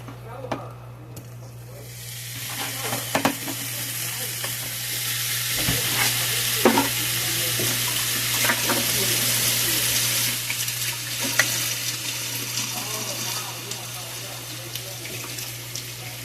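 Bacon cheeseburgers sizzle in a pan as more patties go on, a loud, dense, continuous frying hiss with a steady hum underneath and occasional clicks and scrapes.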